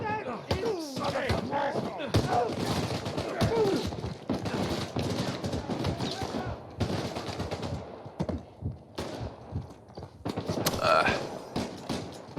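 Gunfire during a shootout in Uncharted 4 on PS5, bursts of automatic fire mixed with clattering game effects under steady talking.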